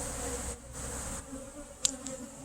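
Honey bees around a beehive during a morning hive inspection, a steady faint buzzing drone with one brief closer buzz as a bee passes near.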